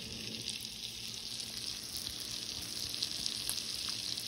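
Shrimp fry in a pan on a home stove, giving a steady close-up sizzle with a bright hissing crackle throughout and no voices.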